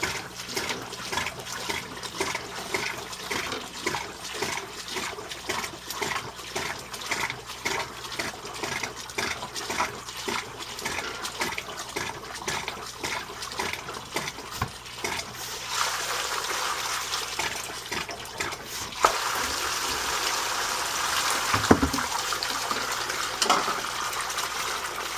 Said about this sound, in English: I'll wait a second for the water to drain out